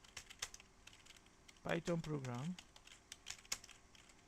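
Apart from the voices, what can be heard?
typing on a computer keyboard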